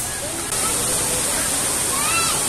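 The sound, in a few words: Taktak Falls waterfall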